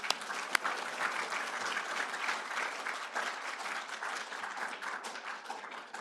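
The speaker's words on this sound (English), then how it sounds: "please join me in giving them a round of applause" Audience applause at a medical school Match Day ceremony, a steady wash of many hands clapping throughout at moderate volume, with no talk over it.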